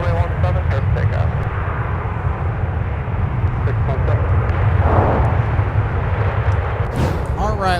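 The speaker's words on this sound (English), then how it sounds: "Heading 140, runway 17, clear for takeoff." An airliner takes off from runway 17 at Minneapolis–Saint Paul airport, its jet engines producing a dense, continuous low roar at fairly close range, with radio voices from air traffic control heard over it.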